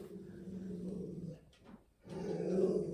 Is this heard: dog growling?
yes